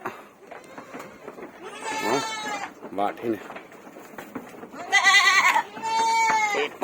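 Goats bleating on a goat farm, several loud, wavering calls spread across the clip, mixed with someone talking nearby.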